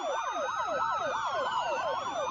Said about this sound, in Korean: 인천 송도소방서에서 출발한 소방차가 산불 현장으로 이동하고 있으며